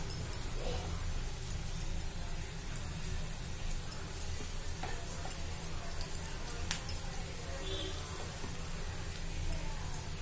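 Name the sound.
ponnaganti leaf pakodi frying in oil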